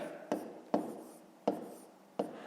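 Four separate strokes of a pen or pencil on paper while a math multiplication is written out, each a short scratchy scrape with a small attack, close and fairly quiet, with brief pauses between them. No one talks.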